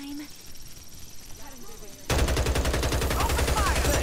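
Sustained rapid gunfire erupts in the Farlight shooter game, loud and dense bursts continuing to the end after a quieter stretch with faint game sounds.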